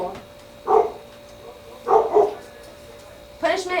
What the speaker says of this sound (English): she got put up and she's still barking